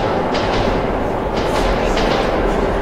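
A train in a tunnel in the video game Metro 2033 Redux rumbles past, loud and close, with a steady heavy roar and faint rhythmic rattling throughout.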